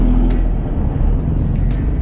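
A very large dump truck rumbles steadily and loudly at close range in slow city traffic, a continuous low engine drone filling the scene with no voices.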